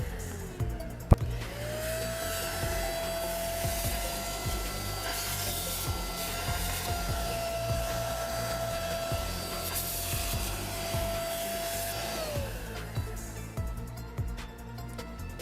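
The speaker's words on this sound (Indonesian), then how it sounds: "sudah selesai ya pekerjaan vacuum cleaner di mobil Hyundai Avega" A Deerma DX7 handheld vacuum cleaner working over a Hyundai Avega car interior, starting with a rising whine and then holding a steady motor drone. Close scraping and rubbing of the nozzle against surfaces runs beneath it before it spins down.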